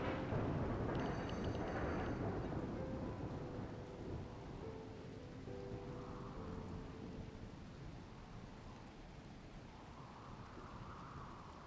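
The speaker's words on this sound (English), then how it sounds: "Rainy thunderstorms on this map are no joke." Rumbling thunder rolls through steady rain in the game Rimworld, a heavy roar at first that slowly fades into softer, distant rumbles under the constant hiss of rainfall.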